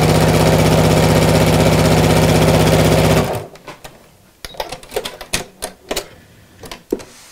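A sewing machine runs steadily and loudly while stitching a zipped coat hanger cover, then stops abruptly and is followed by a series of soft clicks and handling knocks.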